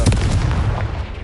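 A Confringo blast spell fired in Hogwarts Legacy, a loud, dense burst with a heavy low boom and crackling wash that fills the short moment without letup.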